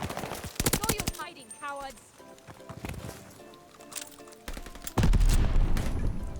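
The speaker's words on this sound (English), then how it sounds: "It's like 3 shots to kill, and the fire rate's crazy, and there's not much recoil." Cooper Carbine assault rifle fire in a first-person shooter game, rapid bursts of shots with a fast fire rate mixed with in-game effects and clatter, growing louder near the end.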